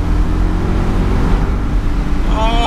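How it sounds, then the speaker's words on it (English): A BMW Z8's naturally aspirated V8 is floored in second gear, giving a loud continuous low engine roar with rushing wind, heard from inside the open car and without talk. "Right, now let's floor it in second."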